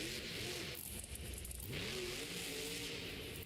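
Monster Mutt Rottweiler monster truck at a Monster Jam arena show, its big engine roaring and revving loudly with rising and falling pitch sweeps over constant crowd and arena noise.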